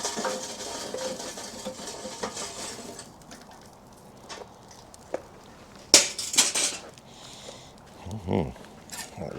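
Hot charcoal coals shifted and spread inside a Slow 'N Sear insert on a grill before cooking filet mignon, giving scattered close scraping and clinking bursts, loudest in the second half, over a faint background hiss.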